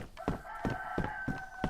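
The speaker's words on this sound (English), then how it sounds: "I think I gotta go after that chicken" A chicken in the video game DayZ, on the Livonia map, clucks and crows in a short burst of rhythmic, nasal calls at close range, with no talking.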